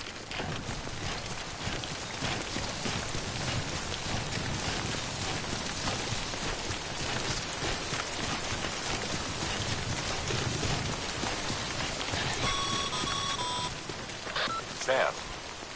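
Timefall rain in the game Death Stranding, a steady hiss of falling drops that continues without a break under a voice speaking, with a few faint electronic beeps near the end.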